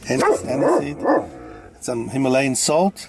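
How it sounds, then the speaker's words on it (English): A household dog named Cento Cavalli barks a few times in a kitchen while a person talks about adding salt and spices to a broth, the short barks mixed in with the speech. "that's our dog"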